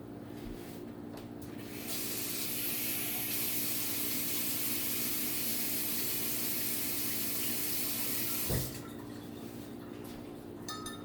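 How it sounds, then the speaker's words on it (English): Water runs steadily from a tap for several seconds as a broad hissing rush, then cuts off with a small knock, leaving quiet room noise. "And this is just straight from the tap"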